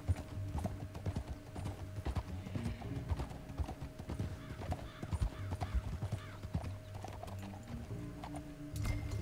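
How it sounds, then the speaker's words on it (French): Horse hooves clip-clop steadily in Red Dead Redemption II, a continuous trotting rhythm mixed with game ambience and a steady tone, with a brief whinny-like sound. "Garde mon cheval."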